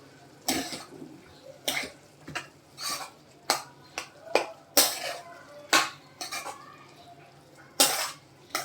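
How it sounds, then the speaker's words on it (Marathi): Spoon scraping and clinking against a pot as ground masala paste is stirred into steamed leaves, giving a string of short, close metallic knocks and scrapes in an irregular rhythm. "ते पण पालासोबत असं मिक्स करून घ्यायचं"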